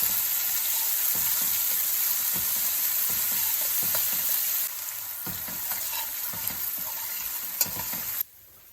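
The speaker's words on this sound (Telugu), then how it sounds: "ఈ చిల్లీ పేస్ట్ని ఫ్రై చేసుకోవాలి" Green chilli paste frying in a pan for potato curry, a continuous loud sizzle with soft scraping stirs throughout, close up, easing off near the end, no talking.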